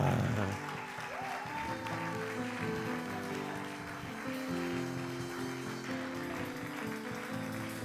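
An audience claps steadily and warmly for a couple, a sustained wash of applause with music or voices underneath.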